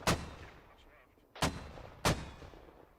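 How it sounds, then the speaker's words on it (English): Mortar rounds landing in the video game Squad, three heavy booming impacts spaced about a second apart, each with a sharp attack and a long rumbling decay. "Oh, here comes mortars."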